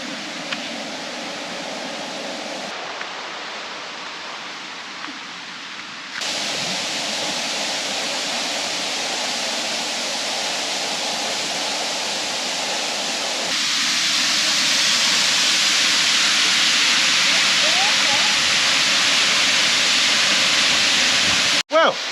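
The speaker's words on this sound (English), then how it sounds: "Well, what do you think of the waterfall?" Broad steady rush of a waterfall near Cooktown, Australia, a continuous hiss that swells louder in the second half, with brief shifts as the listener moves closer.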